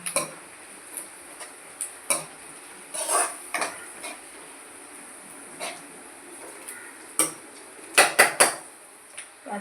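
Spoon stirring chicken gravy in a cooking pot, with a series of light metallic scrapes and clinks against the pot at irregular intervals, quick ones clustered near the end, over a quiet kitchen background.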